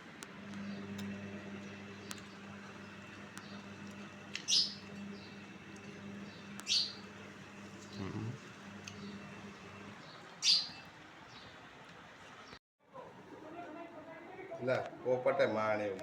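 A parrot gives a few short, sharp chirps spaced several seconds apart, moderately near, over a steady background hum with people talking.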